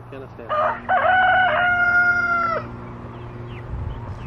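A rooster crows once, loud and close, a drawn-out cock-a-doodle-doo over a low background hum, followed by quieter rustling.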